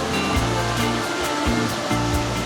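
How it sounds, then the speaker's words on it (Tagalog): Water from an artificial waterfall feature at a resort swimming pool pours in a continuous loud rushing roar, close up and steady, with no voices. "falls effect."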